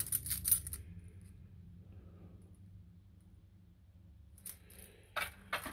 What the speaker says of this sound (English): These are jiggler keys.